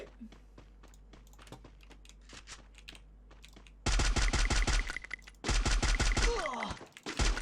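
Rapid automatic gunfire from an M4A1 rifle in the shooter game Free Fire, loud bursts of repeated shots following a stretch of quieter clicking, with a brief pause between the two main volleys.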